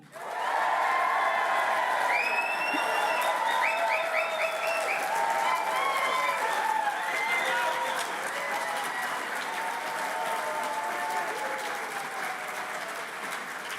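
Graduation ceremony audience claps and cheers loudly and steadily for the whole stretch, a dense wall of applause with scattered whoops and shouts from a large crowd in a hall.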